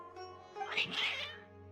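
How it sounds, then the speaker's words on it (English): Cats in the video game Genshin Impact let out a single drawn-out, rising and falling yowl, fairly faint, over a low steady background hum. "Your cats seem pretty worked up."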